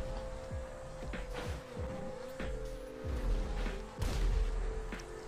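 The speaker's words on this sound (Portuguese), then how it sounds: "Gente, é muito tiro." Gunfire in GTA Online on PS3, with a rapid series of sharp shots and heavy blasts in uneven bursts, loud and close over a steady engine-like drone.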